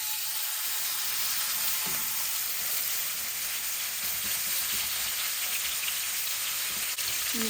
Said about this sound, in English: Into my hot pan, I'm adding some avocado oil.